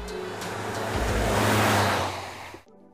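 A Nissan Qashqai hatchback drives along, a steady broadband road and engine rush that swells to a peak and then cuts off abruptly near the end, fairly close with no voices.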